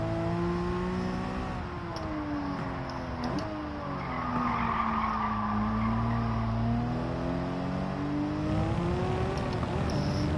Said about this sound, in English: A slidey arse, plenty of power and no brakes.